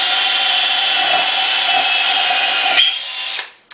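A loud, steady high-pitched drill whine as a 4mm bit bores into red oak continuously for nearly three seconds, then shifts pitch and winds down to a stop.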